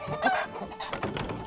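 Pet roosters cluck and crow close by in a short, lively burst of several uneven calls.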